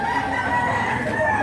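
Roosters crow over clucking chickens at a farm in Padre Garcia, with several birds calling at once in a steady, dense chorus close by.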